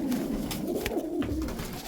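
Feral pigeons sitting by a wild loft coo steadily, a low continuous burbling from several birds close by, with no talking.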